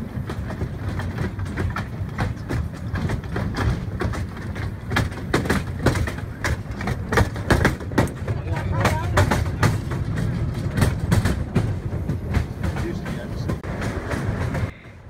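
A 2-foot narrow gauge train, the locomotive Gwynedd, rumbles past at Bressingham Steam Museum with rhythmic clattering wheels and steady low mechanical noise, fairly close and continuous throughout.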